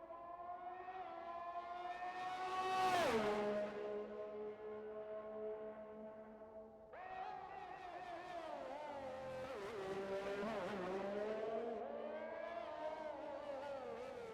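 Simulated race car lapping the Baku street circuit in a racing video game, its engine note climbing and dropping through gear changes with a sharp peak and downshift early, then steady high revving under acceleration, continuous and fairly loud.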